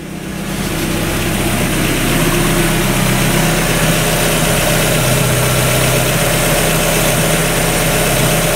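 A Mazda Miata engine idling loudly and close, a steady droning rumble with a constant low hum that rises into a sustained run and holds for several seconds.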